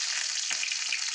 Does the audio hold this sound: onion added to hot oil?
yes